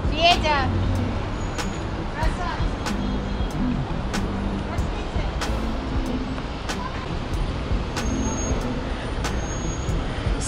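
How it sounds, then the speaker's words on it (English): A city sightseeing bus rumbles along a busy Moscow street near Lubyanka, its engine drone mixed with steady traffic and air-brake hisses, while someone talks over the noise. "City sightseeing bus."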